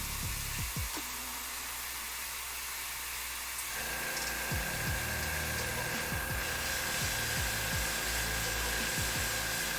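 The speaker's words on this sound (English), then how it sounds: "So I'm gonna spray right where we have our highlight." An airbrush or spray can hisses steadily as paint goes onto the highlight of a painted Lord of the Rings figure of Gimli or Galadriel, with a continuous airy spray and faint clicks from handling.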